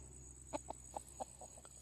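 Chickens clucking in a run of short, separate clucks spaced about every quarter second, faint against a steady background hum.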